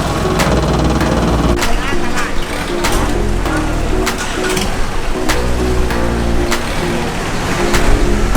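A modified, slammed truck revs its big exhaust hard at a crowded floating-market car and boat show, with a loud, continuous engine roar rising and falling in repeated pulls close by.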